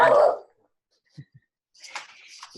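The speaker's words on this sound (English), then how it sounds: "Oh, there's my dog." A dog indoors gives a couple of short, faint yips and whimpers, followed by a louder bark-like burst, after a brief voice at the start.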